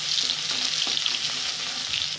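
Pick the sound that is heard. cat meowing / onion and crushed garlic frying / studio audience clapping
onion and crushed garlic frying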